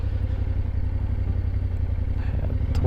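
Motorcycles of a group of arriving bikers rumble steadily and loudly throughout, a continuous close engine drone with some clattering near the end.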